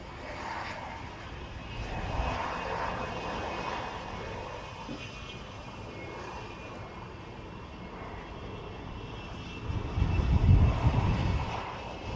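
A military jet, one of the aircraft arriving from France at the Royal International Air Tattoo airshow, rumbles at a distance as a steady engine roar, swelling louder near the end.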